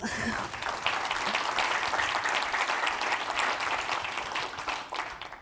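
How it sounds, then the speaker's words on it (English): A meeting audience claps for a newly named chair and vice chairs at an annual general meeting, a dense, even round of applause that holds steady for several seconds before tapering slightly. "A round of applause, please."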